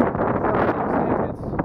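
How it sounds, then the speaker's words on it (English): Gusty wind blows outdoors on a geocaching walk, a steady broadband rumble buffeting the microphone throughout with little else audible. "Ooh, and it's got windy."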